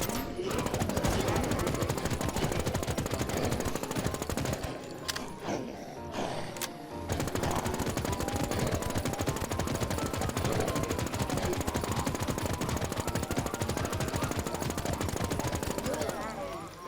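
Rapid automatic gunfire in the zombie survival game NewZ, on the Colorado map, as players shoot at a boss: loud, dense bursts that run almost without pause, with voices talking underneath.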